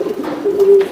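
A male red checker racing pigeon coos once in a soft, low, rolling call, close and clear for under a second.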